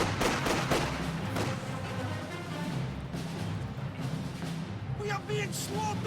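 Maxim machine gun and rifle fire in a strategy video game battle, a dense steady stream of overlapping shots and distant explosions with faint speech mixed underneath.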